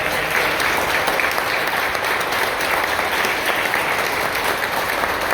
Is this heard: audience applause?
yes